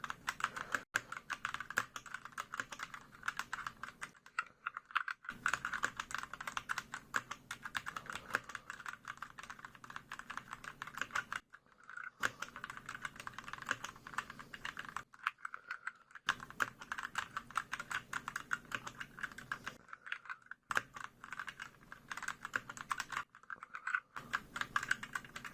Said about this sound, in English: Alright, let's do a typing test.